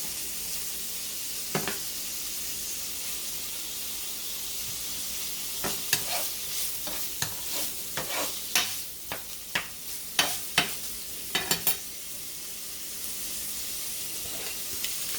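Sausage and cabbage frying in a skillet, a steady close sizzle with a run of sharp pops and crackles building toward the middle and then easing off.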